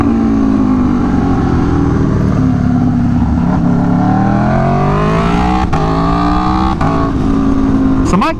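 An Aprilia Tuono V4 motorcycle engine roars loudly and steadily, its pitch sweeping up and down as it revs through gears, with a voice talking over it and a sharp shift at the close.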